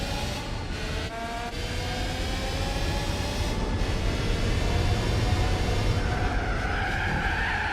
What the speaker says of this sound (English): It sounds like the choke's not working.